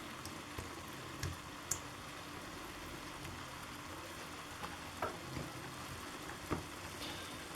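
Small bits of bacon frying alongside chicken in a pan, a soft steady sizzle with occasional pops and crackles, fairly quiet and close, with no talk over it.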